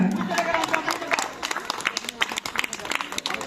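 Audience members at a Pongal festival prize-giving clap in a dense, lively burst of applause, with voices mixed into the crowd noise.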